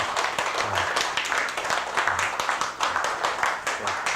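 An audience at a Korean history lecture claps for a married couple who brought food on the first day of class, a dense, steady patter of many hands that runs the whole time.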